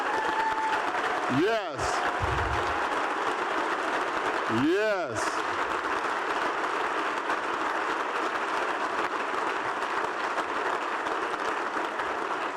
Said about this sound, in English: stand up so we can give them a round of applause